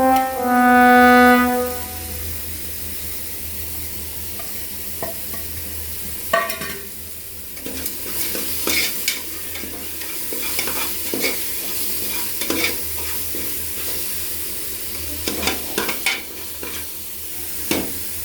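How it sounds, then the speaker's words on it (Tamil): Tomatoes fry in hot oil for chicken biryani, with a steady sizzle broken by repeated scraping strokes of a spoon stirring the pan. A short tonal beep sounds near the start, and no one speaks. "தக்காளி லைட்டாக வதங்கட்டும்."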